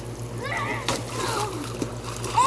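A child splashes on a backyard water slide, with soft wet sloshing and a few brief splashes under a steady hum, along with faint voices in the background.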